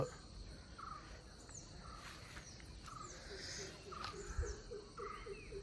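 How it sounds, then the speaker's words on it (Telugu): Night air at Pajaka Kshetra near Udupi carries a steady chorus of crickets and insects, with faint chirps and calls from birds scattered across it at a distance. "నైట్ మొత్తం పక్షుల సౌండ్"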